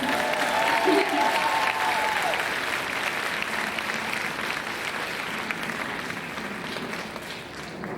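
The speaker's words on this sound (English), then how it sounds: "Can we give her one more huge round of applause?" A large audience claps steadily at an evening show between acts, broad sustained applause at full strength that tapers only slightly toward the end, with faint crowd murmur mixed in.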